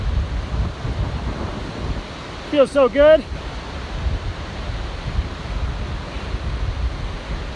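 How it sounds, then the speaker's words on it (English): Wind gusting across a mountain pass on the John Muir Trail, a steady loud rushing roar buffeting the microphone throughout, with a short spoken phrase briefly over it. "It's windy."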